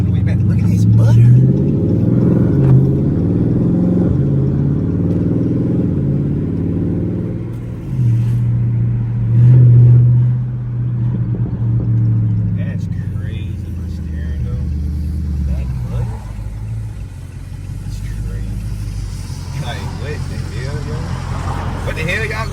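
A 392 police Charger drives through city streets, its engine a deep steady rumble heard from inside the car, swelling and easing with the throttle. Voices talk over it.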